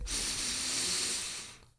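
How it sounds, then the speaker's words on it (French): A single long, airy breath in a voice-dubbing context, close to the mic, swelling steadily and then fading out into near silence. "la respiration"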